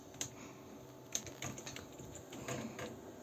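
Quick keystrokes on a computer keyboard entering a cheat code during GTA Vice City, a handful of light, close clicks at an uneven pace with no talking.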